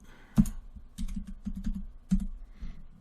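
Typing on a computer keyboard to enter a port setting into a terminal program, a series of close, distinct key clicks in irregular bursts with a few louder taps, no voices.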